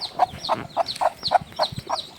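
Rapid, rhythmic clucking from chickens with newly hatched chicks on a small vegetable farm, about eight short calls in a steady series, close by.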